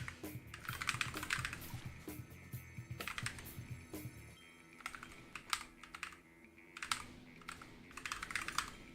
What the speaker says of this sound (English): I can hear the typing over the game sound